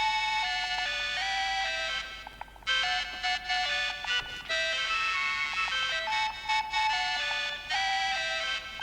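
A phone ringtone plays a repeating electronic melody loudly for several seconds, with brief gaps between phrases and no voices.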